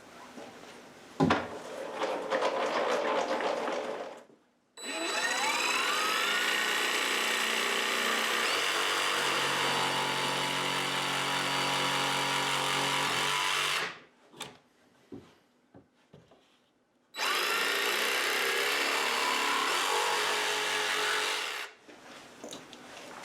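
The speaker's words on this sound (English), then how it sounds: "I'll take this corner off with the jigsaw." A jigsaw cuts a corner off a wooden panel for a rabbit house, giving two long, loud bursts of steady buzzing saw noise separated by short pauses and light knocks.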